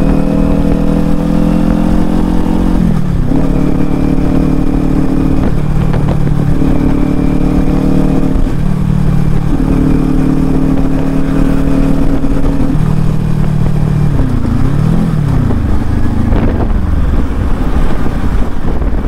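A Kawasaki Ninja 400 motorcycle is ridden in traffic, its engine droning loudly and close, with repeated rising revs cut by gear shifts and throttle changes over a constant wind rush, with no voices.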